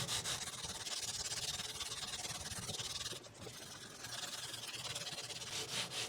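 Soft continuous rubbing of a StewMac microfiber cloth wiped over a Cort X-2 electric guitar, close and quiet, broken by a brief pause partway through.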